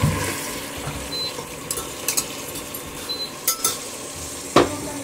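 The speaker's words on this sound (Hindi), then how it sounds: "अब इसमें लहसुन अदरक पेस्ट 4 चम्मच डाला जाएगा क्योंकि ये 1 किलो गोश्त है। इसे फ्राई करेंगे।" Browned beef, about a kilogram, frying in a pot with garlic ginger paste, a close sizzle with stirring and spoon scrapes against the pan, several sharp clinks, no talk.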